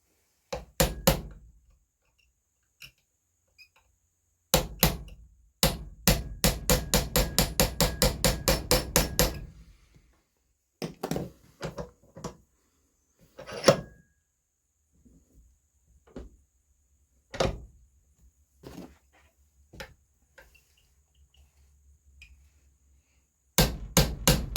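Small hammer tapping out the trigger pin of a TC Omega trigger, sharp metallic knocks in short bursts, including a rapid flurry of evenly spaced taps, then scattered single hits and a final cluster, close and loud between quiet gaps.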